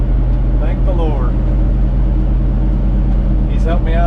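A classic carbureted Chevy engine idles steadily and loud throughout, a constant low rumble, while someone talks over it.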